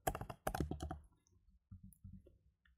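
PySpark code typed on a computer keyboard, two quick bursts of clattering keystrokes up front followed by a few softer, sparser clicks, close-miked in an otherwise quiet room.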